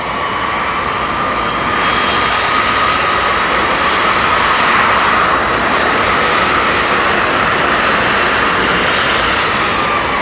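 Boeing 747-100 jet engines during taxi tests with tight steering turns, a loud continuous whining roar that holds steady and swells slightly throughout, with no voices.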